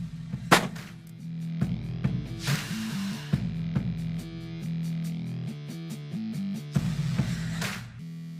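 A .44 Magnum revolver fires Barnes Vortex 225-grain hollow point rounds in a few loud, booming shots with short decaying tails, separated by pauses, over steady background music.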